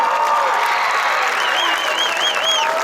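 A stadium crowd at a high school football game applauds and cheers for Hall of Fame inductees, a steady roar of clapping with whistles rising above, loud and continuous.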